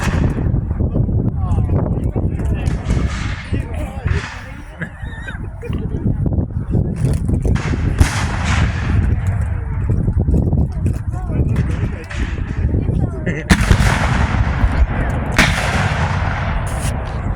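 Musket volleys and heavy artillery booms roll across the field at a Civil War battle reenactment, with repeated sharp reports, some near and some distant, while spectators chat throughout.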